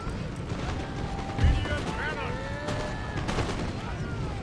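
Musket volleys and cannon fire crackle and boom in a battle in the strategy game Empire: Total War, with a dense, continuous rumble of gunfire and one heavier blast partway through, under a layer of in-game noise.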